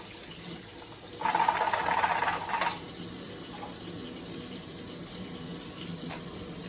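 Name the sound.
water running while washing appliance parts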